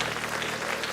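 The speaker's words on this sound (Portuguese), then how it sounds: "Um poderoso aplauso" Congregation applause at a church service, a dense continuous wash of clapping filling the whole moment with no voices over it.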